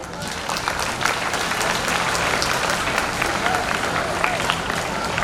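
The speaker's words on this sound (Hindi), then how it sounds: "जोरदार ताली बजाओ" Loud, dense applause from an audience at a Kendriya Vidyalaya school foundation day celebration in Ujjain, steady clapping and crowd noise sustained throughout with no break.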